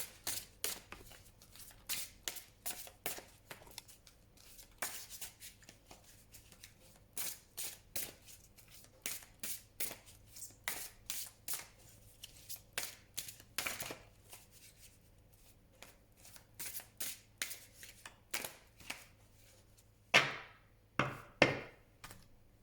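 A deck of tarot-style playing cards is cut and shuffled close up, with repeated soft papery flicks and slaps in an irregular rhythm over more than twenty seconds, ending in a few louder riffling bursts.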